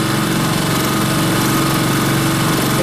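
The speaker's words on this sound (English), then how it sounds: "I'm going to throttle the engine up here a little bit" An outboard boat motor fitted with an anti-vibration mount runs loud and steady as it is throttled up, a dense, buzzing engine drone filling the scene without pause.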